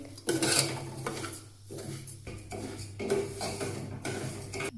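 Semolina roasting in a pan while a spoon stirs it, giving repeated metallic scrapes and clinks in uneven bursts with short pauses between strokes.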